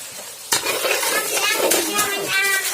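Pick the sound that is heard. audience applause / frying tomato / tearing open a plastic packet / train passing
frying tomato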